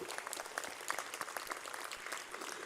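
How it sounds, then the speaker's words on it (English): Audience applause at the inaugural event of an exhibition of ancient sculptures from India, Egypt, Assyria, Greece and Rome, a steady dense patter of many hands clapping with little variation in loudness. "They deserve another round of applause."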